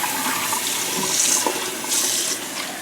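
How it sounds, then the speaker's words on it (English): Water runs steadily over raw Irish moss seaweed to rinse the sand out, a continuous splashing stream with brief surges of louder gushing, close by and with no talking. "I'm just going to rinse this out"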